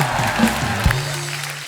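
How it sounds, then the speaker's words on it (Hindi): A studio audience applauds during a comedy talk show, steady close clapping that fills the short moment with a brief murmur from the crowd. "जोरदार तालियां हो जाए इन सब स्टार्स के लिए।"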